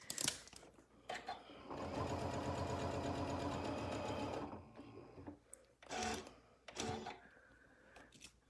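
A sewing machine stitches around a Christmas stocking, a steady rapid mechanical whirring run of about three seconds, then a few short bursts and clicks as the work is adjusted, fairly close with no talking.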